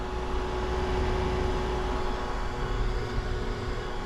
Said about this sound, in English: it's in cooling down mode right now. So the compressor is on.